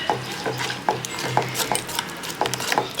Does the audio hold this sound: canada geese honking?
no